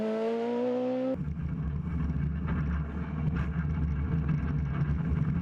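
Ronak Shah's N12 Group N rally car at the 2014 KCB Kisumu Rally, a high engine whine that cuts off abruptly after a second, leaving a rumbling, wind-buffeted drone of the car pressing on through the stage.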